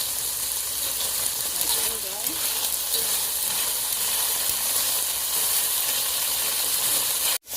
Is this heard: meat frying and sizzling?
yes